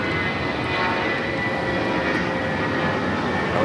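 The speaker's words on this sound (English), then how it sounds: "United Airlines flight 1893 in A320" A United Airlines Airbus A320 airliner at LAX, a steady, moderately loud engine rumble with a faint whine and no voices.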